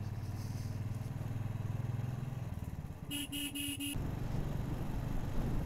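A motorbike rides along a mountain road, its steady engine drone loud and close throughout, with a brief clattering burst of sharp tones midway before the rumble continues.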